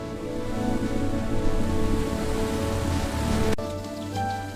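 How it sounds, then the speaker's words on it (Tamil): Heavy rain pours down in a steady, dense patter that stays loud throughout, with a single sharp click near the end and no voices. "பலத்த மழை பெய்ய ஆரம்பித்தது."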